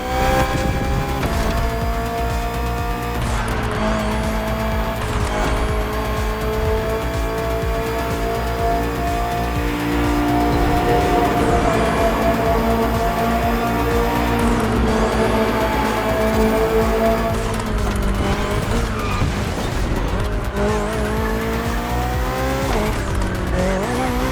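A BMW M Hybrid V8 endurance race car in The Crew Motorfest roars continuously at high revs, with rising and falling gear shifts and tire squeal throughout, loud and close with no talking.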